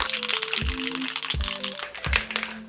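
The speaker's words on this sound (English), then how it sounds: "Alright, we'll give this a quick shake." A cocktail shaker packed with ice and smoked watermelon margarita rattles and crunches in a few quick, loud shakes, with faint talk in the background.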